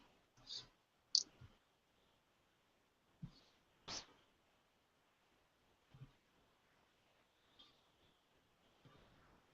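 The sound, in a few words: typing on a keyboard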